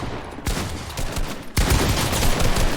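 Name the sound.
gunfire shooting at the ceiling in a video game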